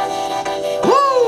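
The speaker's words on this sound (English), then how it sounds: "the vocoder is gonna process it and add harmonics to the vocal based on the chords that we picked." A vocal chop runs through a vocoder layered with chords from the Serum synth, giving dense harmonic tones that hold steady and then slide upward into a bright, bending pitch near the end.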